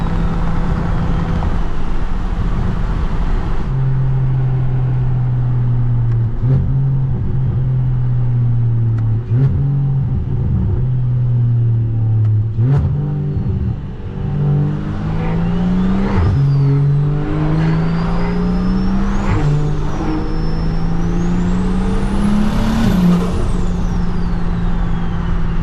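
Single-turbo BMW 335i engine revving loud and close as the throttle is blipped repeatedly, low engine drone rising and falling with sharp whooshing turbo whistles and flutter climbing over it, no talk.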